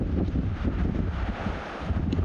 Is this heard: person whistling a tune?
no